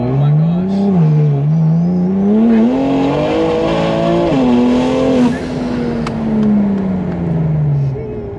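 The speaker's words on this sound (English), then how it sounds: "Guys, this car is insanely fast." A 1000 HP BMW M2C with an S55 engine accelerates hard, its loud engine note climbing through the gears with short dips at each shift, then holding a long rising pull, heard from close up inside the car.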